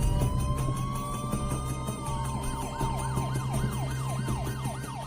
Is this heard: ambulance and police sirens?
yes